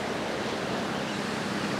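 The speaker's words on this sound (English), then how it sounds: "they got big waves close to the shore" Ocean waves break near the shore at Windansea Beach in San Diego, a continuous broad wash of surf that stays steady and fairly loud throughout, with no voices.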